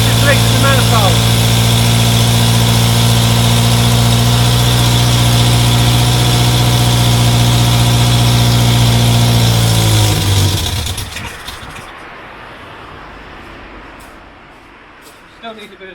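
A Morris Minor engine idles roughly just after its first start, with a steady loud drone and a blowing exhaust leak at the downpipe. Around ten seconds the engine cuts out and dies away, leaving faint background noise and a couple of knocks.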